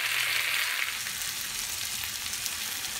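Tomatoes frying with onions in a pan for a Telugu-style mattar paneer masala, a steady close hiss of sizzling oil that holds evenly throughout with no talk.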